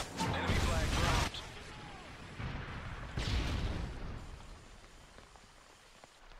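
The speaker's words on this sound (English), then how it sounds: "Friendly predator missile inbound." Predator missile strike in Modern Warfare 3 capture-the-flag on the Getaway map: heavy booming blasts with a crashing, debris-like rumble, one loud burst followed by a second, near and powerful.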